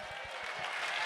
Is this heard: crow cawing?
no